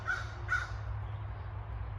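Two loud, close crow caws, evenly spaced, ring out over a low steady hum in Vermont woodland, then quiet ambience follows.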